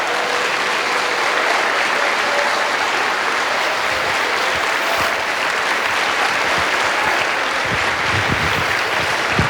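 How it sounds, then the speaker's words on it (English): A story slam audience gives a standing ovation, with sustained dense applause filling the room at steady loudness and faint crowd noise underneath, no clear voices. "So can we have one more standing ovation, round of applause for that group of people, please?"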